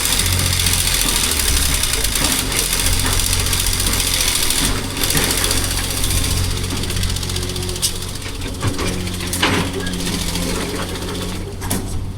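An excavator's diesel engine labours and revs under steady throttle, a loud continuous rumble with knocking vibration throughout, with voices faintly audible beneath.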